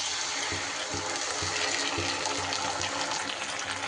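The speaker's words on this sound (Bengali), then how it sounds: "এইবার এর ওপরে আমি দিয়ে দেব সসের মিশ্রণটা।" A sauce mixture poured over fried cauliflower in a pan, a continuous wet sizzling hiss with a steady gushing texture, close and even, no talking.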